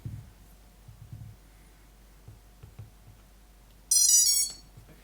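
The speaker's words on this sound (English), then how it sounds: "it might also trigger when it beeps the motors for the boot up tune" A freshly built FPV quadcopter's motors chirp a short, bright rising boot-up tune, a quick burst of electronic beeps after faint handling clicks and thumps nearby.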